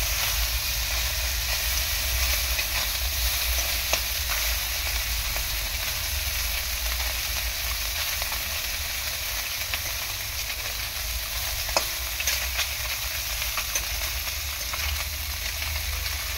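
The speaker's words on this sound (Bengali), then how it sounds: "তো মোটামুটি সবকটা মাছ এরকমভাবে ভেজে নেবো আমি।" Small mourala river fish fry in a pan with a steady, dense sizzle and hiss that holds evenly throughout, close and continuous with no one speaking.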